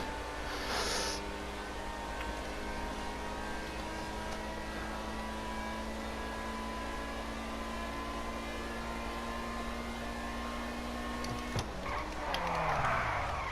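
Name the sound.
Pegassi car engine unable to shift, from video game GTA Online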